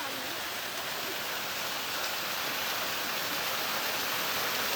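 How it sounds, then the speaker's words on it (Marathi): Steady, dense rush of falling water from Mormarwadi waterfall near Lonavla, continuous and even throughout with no pauses, heard from nearby. "हा वॉटरफॉल आहे बघा"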